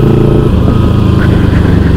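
A motorcycle engine runs steadily during a ride, a loud close continuous throb with rapid pulsing firing and no pauses, filling the short stretch alone.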